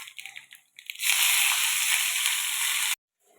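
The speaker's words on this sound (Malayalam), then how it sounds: "വെളിച്ചെണ്ണ ചൂടായിട്ടുണ്ട്. ഇതിലേക്ക് കുറച്ച് കടുക് ഇടുക." Mustard seeds hit hot coconut oil and burst into a loud, hissing splutter with crackling pops that lasts about two seconds, then cuts off abruptly; quieter kitchen sounds come before it.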